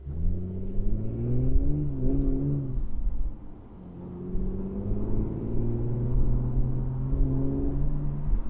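An Audi heard from the cabin while driving, its engine droning low and steady and rising in pitch as it accelerates through gears, with a brief dip between pulls and constant road rumble underneath.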